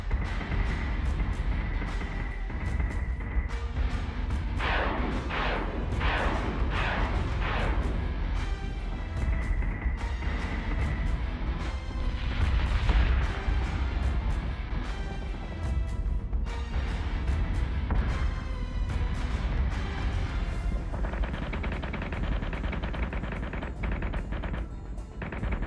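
Ship weapons firing in the Battlestar Galactica Deadlock space combat game: a rapid cluster of bursts stands out midway, set within a dense, constant roar of battle noise.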